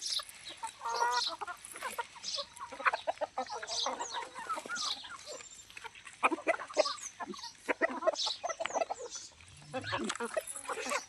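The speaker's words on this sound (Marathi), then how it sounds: "आपण कोंबड्या सोडलेल्या बाहेर बघा कशा खातात." Several chickens cluck and peck outdoors, eating corn cobs, in a busy, irregular chorus, with occasional bird calls and some voices in the background.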